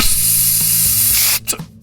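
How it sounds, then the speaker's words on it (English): A spray can hisses in a loud continuous burst that cuts off abruptly, followed by a couple of short puffs of spray. "we'll be turning our spray cans on the Beach Boys' Pet Sounds"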